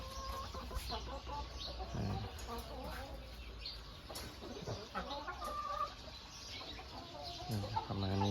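Chickens cluck and a rooster calls inside a farm coop holding breeding roosters, hens and chicks, a steady busy flock din with bursts of clucking throughout, and someone speaks briefly over the birds.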